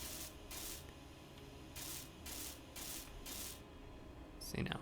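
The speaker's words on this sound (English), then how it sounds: "Let's see if we weld these up." A welding tool in the video game Space Engineers joins half blocks, giving repeated bursts of soft hissing in a regular on-off rhythm over a low background hum.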